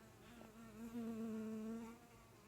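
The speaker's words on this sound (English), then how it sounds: "I've got a bee flying around me." A bee buzzing around a person indoors, a steady droning hum that swells and fades as it circles close by, faint and alone with no talking.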